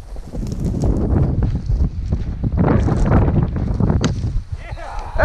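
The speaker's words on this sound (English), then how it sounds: "Oh yeah, that wind." Strong wind buffets the microphone during an Illinois pheasant hunt, a rough, continuous roar that rises and falls in gusts, with people talking over it and a brief bird call near the end.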